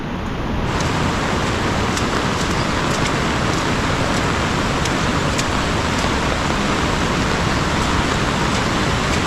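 Heavy rain falls in the mountains, a loud, dense and unbroken roar of downpour that holds steady throughout.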